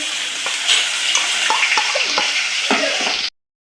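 Crushed onion gravy sizzles steadily in hot oil with asafoetida for a paneer curry, a continuous bright frying hiss with occasional stirring clinks. It cuts off abruptly near the end.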